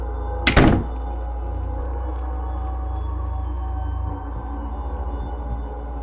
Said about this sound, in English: The door was immediately locked tightly.